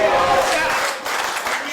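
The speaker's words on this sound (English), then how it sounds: "This crowd's not going to shut their mouths for him." Wrestling crowd at a GLWA match shouting and chanting loudly, a dense, continuous roar of voices with scattered claps.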